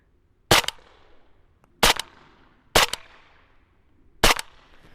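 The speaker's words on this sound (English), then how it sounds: "we'll plug some rounds down range at this one" Four sharp, loud rifle shots from a Q Honey Badger with a Geissele trigger fired at an outdoor range, evenly spaced about a second apart, each a crisp crack followed by a brief fading echo.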